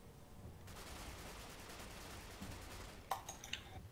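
Sustained gunfire bursts in the tactical shooter video game Ghost Recon Phantoms, fairly faint and steady, with a few sharper impacts near the end.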